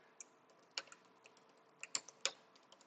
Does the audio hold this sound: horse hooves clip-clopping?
no